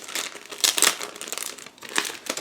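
A plastic bag holding the clear sprue of an ICM 1/48 AT-7C/SNB-2C Navigator model kit is opened by hand, giving close, crisp crinkling bursts with brief pauses and no talk.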